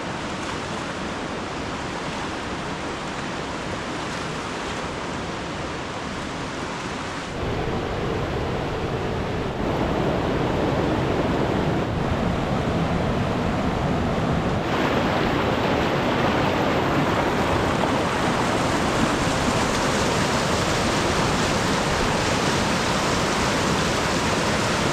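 Creek water rushes steadily at Cupboard Creek along the Selway River trail, a loud, broad wash of flowing water that swells slightly partway through and stays constant and close, with no talking.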